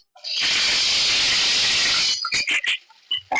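Chopped onion lands in a hot pan of oil with cloves, mace, cinnamon and cumin, setting off a loud, close burst of sizzling that runs about two seconds before dropping to a few scattered spoon clinks and crackles.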